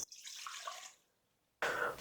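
Water splashes into a stand mixer bowl in a short, steady pour, stops briefly, then resumes as a second, louder burst of splashing close by.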